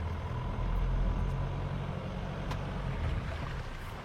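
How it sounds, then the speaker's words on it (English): A 2022 Hyundai Tucson engine driven off-road under steadily increasing throttle gives a deep, steady droning rumble with cabin noise, close and continuous, with no speech. "I'm applying more and more throttle."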